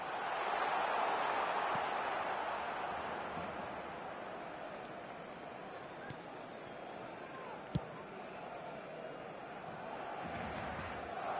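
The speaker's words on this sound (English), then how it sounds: "Now the crowd are demanding that they just finish this off." A stadium crowd in the eFootball 2026 video game keeps up a steady, distant roar of chanting and noise that swells and eases slightly, with an occasional sharp thud over it.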